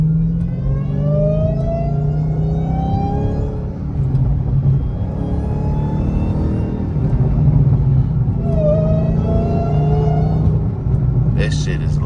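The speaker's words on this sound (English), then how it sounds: "probably pull up and get some more revs" A Dodge Hellcat fitted with a cold air intake idles with a deep, loud rumble and rises in a few revs, someone talking over the engine throughout.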